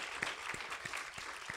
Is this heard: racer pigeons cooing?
no